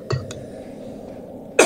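A single cough bursts out briefly near the end, with a fainter throat noise or small clink early on over a steady low background hum, close and solo with no talk.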